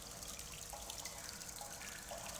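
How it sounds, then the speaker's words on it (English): Water in a Portal 2 test chamber drips and splashes softly and steadily, a faint continuous wash with scattered small drip accents and no voices. "I love these water effects."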